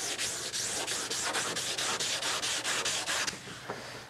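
Oak mission-style furniture surface being sanded by hand, a steady rhythm of about a dozen close, brisk abrasive strokes, each a scratchy swish, with no voices.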